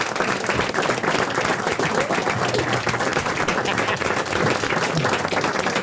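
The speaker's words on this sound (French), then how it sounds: "les applaudissements que vous entendez" A studio audience on a French radio-television panel show applauds, dense continuous clapping at close range, loud and sustained throughout.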